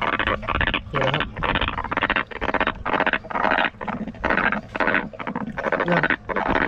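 Frogs croaking at night in Korea, a dense, loud chorus of rapid, rhythmic croaks repeating continuously with no talk over it.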